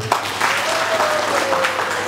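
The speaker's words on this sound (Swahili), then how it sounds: "Mpigieni makofi leo" A rally crowd in Bukombe claps loudly and continuously for a short burst, a dense wash of hand claps with a faint tonal hum underneath.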